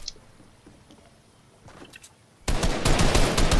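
Gunfire in an online shooter video game: faint scattered shots at first, then a sudden loud, dense burst of rapid fire that continues to the end.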